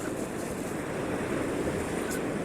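Ocean waves wash onto a sandy beach at sunrise, a steady continuous surf roar with some wind on the microphone, no voices.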